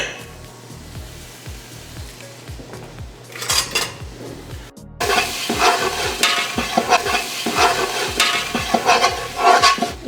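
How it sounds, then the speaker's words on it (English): Onion and diced jalapeno being sauteed in butter in a pot: first quiet clinks and faint utensil taps, then a sudden louder burst of sizzling with steady stirring scrapes and metal clatter continuing to the end. "we're going to saute 1 cup of white onion and about 1 cup of diced jalapeno"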